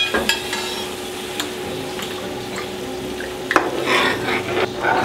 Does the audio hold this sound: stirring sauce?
yes